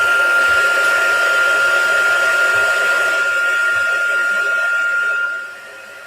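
A hair dryer runs steadily at close range with a strong whining tone and airy hiss, then drops to a lower setting near the end; no speech accompanies it.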